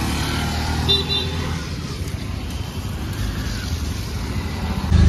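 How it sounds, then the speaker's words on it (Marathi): An auto rickshaw rides through a rainy morning. A steady, close engine rumble and road noise run throughout, with a brief horn toot and a few faint background voices. "एक्झाम असल्यामुळे मला आता रिक्षाने जावं लागतंय"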